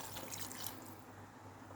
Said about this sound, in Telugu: కొంచెం వాటర్ వేస్తున్నా.